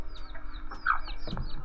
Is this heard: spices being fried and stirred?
no